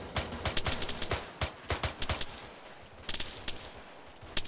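Rapid gunfire in Arma 3 during a close-quarters fight: many sharp reports, some in quick bursts and some single, loud and near, with no talking over them.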